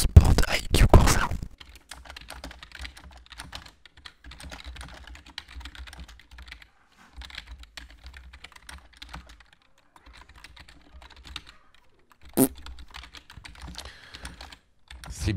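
Fingers type on a Corsair K70 MK2 RGB mechanical keyboard in quick irregular bursts of close, crisp clicks, with a few louder knocks and short pauses between runs.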